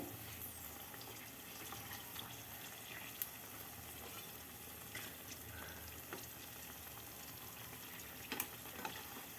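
Batter-dipped ajwain leaf bajji fry in hot oil, a faint, even, hissing sizzle that runs without a break, with a few small clicks.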